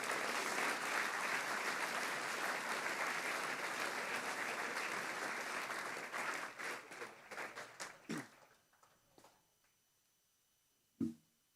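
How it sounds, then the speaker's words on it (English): A senior school assembly audience claps loudly and continuously for several seconds, the applause then thinning into scattered claps before falling quiet. "A round of applause for the last gentleman."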